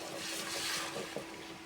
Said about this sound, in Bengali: এবার আমি পানিটা দিয়ে নিব মশলা কষানোর জন্য